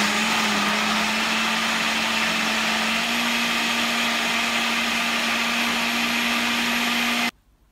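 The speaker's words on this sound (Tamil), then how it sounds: "இப்போ இதை நல்லா வந்து ஸ்மூத்தாக அரைச்சி வச்சுக்கலாம்" A mixer grinder blends vegetables and fruits into green juice with a loud, steady high-pitched whirring hum that runs unbroken for several seconds, then stops abruptly; no one speaks.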